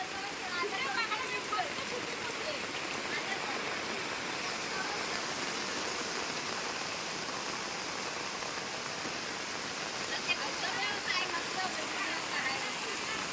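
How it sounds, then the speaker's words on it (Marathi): Steady, dense rush of swollen village floodwater after an all-night downpour in the Konkan, roaring continuously throughout, broadband and unbroken, with a faint voice briefly in the background. "पाणी बघ इथंच बघ केवढा आलाय तो"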